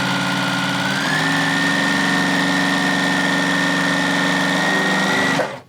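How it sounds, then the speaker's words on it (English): Sewing machine stitching fabric strips for a dog bed, running in a steady loud whir with a rapid mechanical hum that shifts slightly in pitch, then stops abruptly at the end. "we're gonna sew along the short end, making one long strip"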